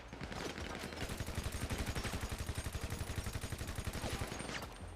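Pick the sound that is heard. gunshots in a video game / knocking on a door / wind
gunshots in a video game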